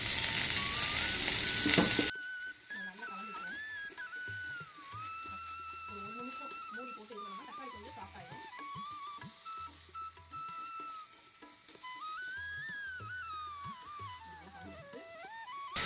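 Tomatoes sautéing in a pan for potato kurma give a steady, close sizzle and frying hiss that runs throughout after a louder opening burst, with faint whistle-like tones drifting over it.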